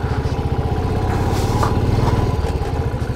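Motorcycle engine droning steadily and loudly on a mountain road, with continuous rumble and some clatter throughout, no talk.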